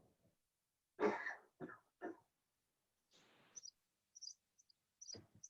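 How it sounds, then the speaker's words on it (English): A person coughs a few times close up, a short burst of harsh coughs followed by a throat clear in a quiet room. "I have to cough."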